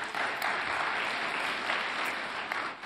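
Steady, dense audience clapping at a radiology lecture as a speaker leaves the podium, continuous and fairly even throughout with no talking.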